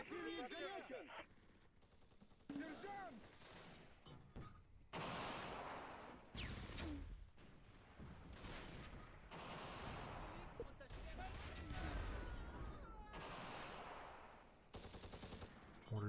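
Gunfire and machine-gun bursts from a Close Combat battle at Radzymin, with a T-34 tank and mortars in the fight, rattling in repeated volleys that run through the whole stretch alongside a voice talking.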